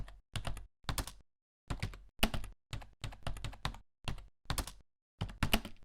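Rapid typing on a computer keyboard while entering a Linux mount bind command: bursts of close, crisp key clicks separated by short pauses, with no voice over them.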